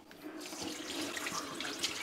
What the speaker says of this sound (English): We're going to fill it with a drop of water.